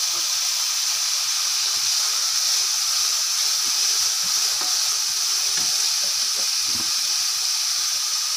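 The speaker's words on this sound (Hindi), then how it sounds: "1 मिनट हमने फ्राई कर ली है। अब गाजरें डालेंगे।" Carrots stir-fried in a pan give off a steady, even hiss and sizzle, close and continuous, with faint clinks and scrapes now and then underneath.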